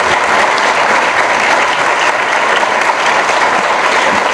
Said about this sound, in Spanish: Ellas se merecen todos nuestros aplausos